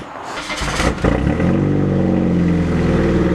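An Eclipse car engine cranks briefly and catches, then settles into a steady, smooth idle close by.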